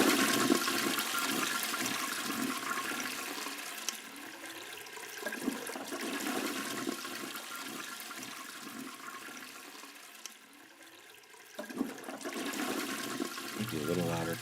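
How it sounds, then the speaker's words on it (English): A toilet flush rushes and gurgles steadily for most of the stretch, loud and close, then fades into a trickle before a second surge of water near the end. "Toilet flush."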